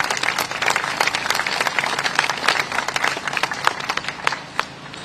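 Applause fills the hall at a Commonwealth Day ceremony, a crowd clapping in a dense, crackling burst that peaks and then tapers off toward the end.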